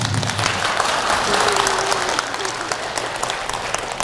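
Audience in a Catholic church clapping for a lecture on the Gospel of John, steady full applause from many hands throughout, with a faint brief tone in the middle.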